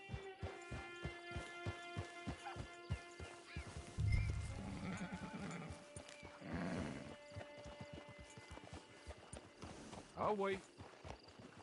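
Horse in the online game Red Dead Redemption, with steady clip-clopping hooves and a loud whinny near the middle and again near the end, under a brief line of speech.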